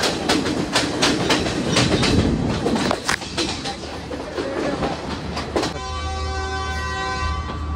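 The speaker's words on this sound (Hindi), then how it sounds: "जब ये स्पीड पकड़ती है ना तो इतनी ज़्यादा आवाज़ करती है ये ट्रेन, खट खट खट खट खट खट" A train on a Sri Lankan line between Ella and Nanu Oya runs at speed, its wheels beating a loud, close clickety-clack rhythm over the rails before a sustained horn blast sounds near the end.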